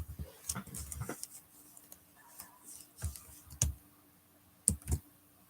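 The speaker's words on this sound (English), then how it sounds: "I'm just going to type to Cheryl and let her know." Scattered keystrokes on a computer keyboard, a few sharp clicks spaced irregularly across several seconds, quiet and close with faint room noise between them.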